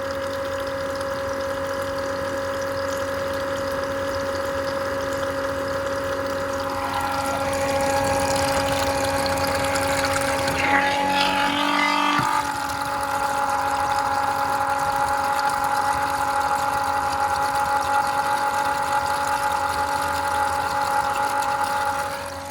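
A pump pushes water through a clogged air-conditioner drain line and its P-trap, giving a steady mechanical hum with a constant tonal whine. Gurgling swells midway as the flow surges, then the drone settles back to an even run.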